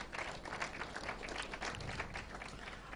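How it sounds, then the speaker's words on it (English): An audience at a Nigerian tax service retreat applauds a professor, continuous dense clapping from a sizeable crowd, heard quietly and somewhat distant without a break. "Please let's give a round of applause to the professor."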